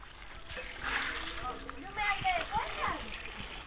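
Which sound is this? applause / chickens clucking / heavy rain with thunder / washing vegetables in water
washing vegetables in water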